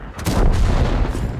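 A tank gun fires in the video game World of Tanks, one loud close boom with a sharp onset, followed by a rumbling tail.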